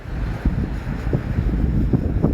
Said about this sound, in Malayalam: നല്ല കാറ്റുണ്ട് ഇവിടെ,